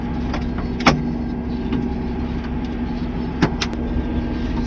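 Tractor engine running in a vineyard row during precision pruning, a steady low idle-like drone with a few brief sharp clicks or knocks on top, no voices.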